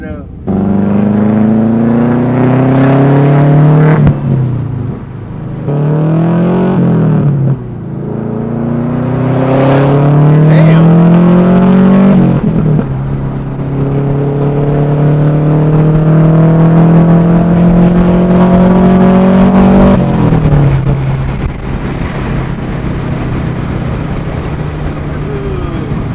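A catless 10th-gen Honda Civic Si exhaust revs loudly and repeatedly up close, the engine pitch climbing and dropping in several sweeps, with excited voices over it.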